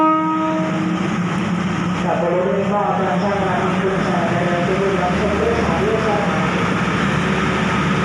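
Local train 408 stands at Chum Saeng station amid a steady low rumble and hum, while a man makes an announcement over the noise throughout.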